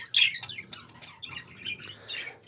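Busy twittering and squawky chirps from several goldfinches in a cage, a bright burst at the start then scattered calls throughout, fairly close.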